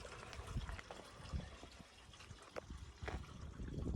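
Water trickling and splashing into a fuel cell for an all-wheel-drive Honda Civic build, an uneven liquid dribble with small gushes and knocks, fairly close and moderately loud, with no one talking.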